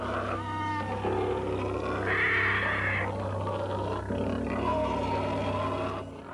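In an Upin & Ipin cartoon, a pet bear growls and roars loudly. The deep, sustained moaning comes in long swells with brief pauses, and no one speaks.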